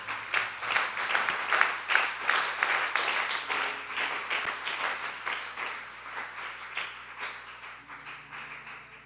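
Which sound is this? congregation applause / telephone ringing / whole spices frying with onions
congregation applause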